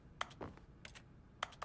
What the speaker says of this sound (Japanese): キーボードの音がするのはおかしいじゃん。